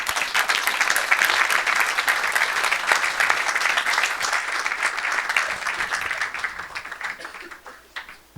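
A church congregation applauding and cheering during a worship service, with sustained dense clapping that holds loud and steady for several seconds and then gradually fades.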